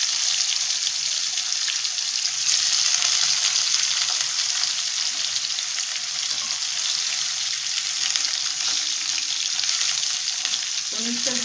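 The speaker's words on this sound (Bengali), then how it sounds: "এই জন্য আমি পনিরটা পরে ভেজে নিচ্ছি" Paneer frying in a pan for a cottage cheese and taro root dish, giving a loud, continuous hiss of hot oil that holds steady throughout with a brief clink near the end.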